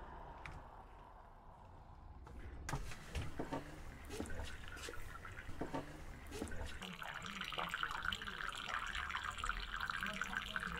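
A moored sailboat takes on water from a hose or tap, with a steady rushing flow and dripping that grow busier midway, and faint voices in the background.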